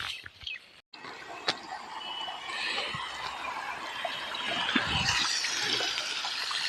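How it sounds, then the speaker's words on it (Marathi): Water gushes steadily from a pipe onto a garlic field, a broad rushing splash that swells louder over the stretch after a brief dip near the start, heard close up. "थोडंसं पाणी जास्त सोडूया"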